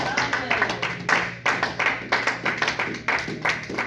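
Church congregation clapping in steady rhythmic unison to acclaim the Lord, loud and close, with some voices mixed in beneath the claps.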